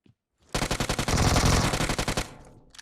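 A single sustained burst of rapid automatic gunfire in PUBG Mobile, loud and close, with evenly spaced shots over about two seconds before trailing off.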